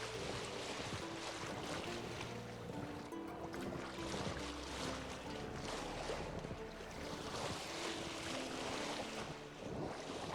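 Boat crossing a foggy lake in a video game, quiet water lapping and splashing with a wash of wind, steady and faint, with no talking.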